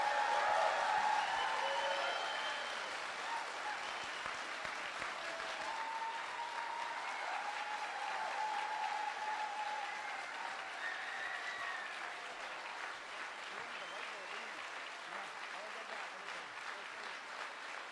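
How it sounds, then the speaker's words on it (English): Audience applause for Brian Peckford fills the room, a dense, steady wash of clapping that starts strong and slowly eases off, with faint voices mixed in. "And can we just give him an applause?"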